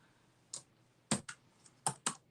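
Keys on a computer keyboard tapped in a few short, uneven bursts of sharp clicks, close and fairly quiet, with no talk.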